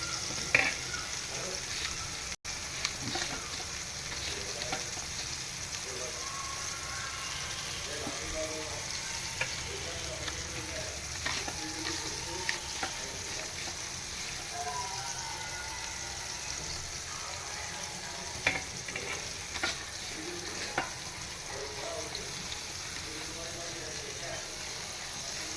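Small mandeli fish fry in a pan with a steady, even sizzle that lasts throughout, joined by occasional faint crackles and light clinks of a utensil.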